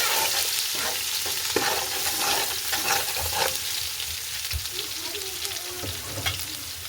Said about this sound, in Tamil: இந்த நேரம் நாங்கள் இடித்து வச்சுருக்கோம் இந்த இஞ்சி உள்ளியை இதில் போட்டு சேர்க்க போகிறோம்.